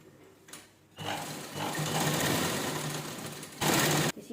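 A sewing machine stitches a towel bag made from an old shirt, running in a steady, close, buzzing whir for about three seconds, then speeding up into a louder final burst before stopping.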